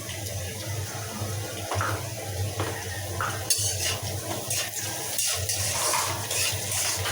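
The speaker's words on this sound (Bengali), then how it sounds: "পেঁয়াজগুলো ভেজে মশলা দিই।" Onions and spices fry in a pan for fish cooked with potatoes, salted to soften them. The sizzle is steady and broadband and lasts throughout, with occasional clinks of a utensil stirring. No one talks.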